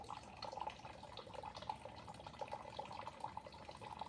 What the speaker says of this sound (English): the water is draining out of the bucket inside